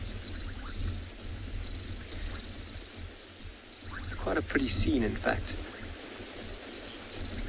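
Frogs call at dusk on a South African reserve, a dense trilling chorus with repeated chirps running throughout, while a person talks over it briefly and an insect-like buzz rises midway.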